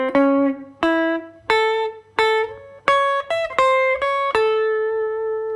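A country swing guitar lick from a style lesson, transposed into A: a run of about nine plucked, clearly pitched notes in a steady rhythm, each ringing briefly, played alone with no voices.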